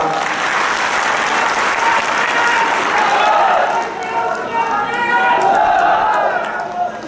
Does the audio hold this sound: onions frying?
no